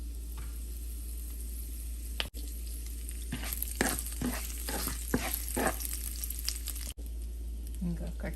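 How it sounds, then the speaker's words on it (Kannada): Curry leaves hit hot oil with cumin seeds, bursting into a loud crackling sizzle of rapid pops midway, over a steady low electrical hum, without speech. "ಸೊ ಎಣ್ಣೆ ಕಾದಿದೆ. 1 ಟೀ ಸ್ಪೂನ್ ಜೀರಿಗೆ ಹಾಕ್ತಾಯಿದ್ದೀನಿ. ಸೊ ಕರಿಬೇವಿನ ಸೊಪ್ಪು ಹಾಕೋಣ."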